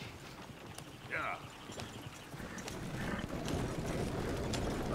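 Horse hooves clip-clopping in a video game, a faint irregular clatter of steps under a murmuring voice and ambient game noise that grows slightly louder toward the end.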